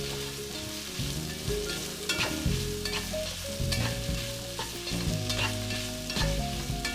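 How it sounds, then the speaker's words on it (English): Onion and tomatillos stir-frying in oil for adobo, a steady loud sizzle with repeated clacks and scrapes of a utensil stirring the pan, close up and without talk. "this is when we add our tomatillos, and we are also going to stir fry them"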